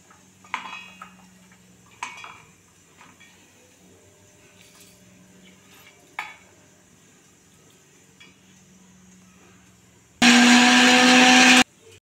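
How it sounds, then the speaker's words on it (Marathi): Several quiet clinks of utensils come before a mixer grinder whirs loudly for a little over a second, grinding garlic, coconut, green chillies, coriander and cumin for a spicy urad dal ghuta. "आता हे सर्व साहित्य मिक्सरच्या भांड्यात घालून बारीक करून घेणार आहे"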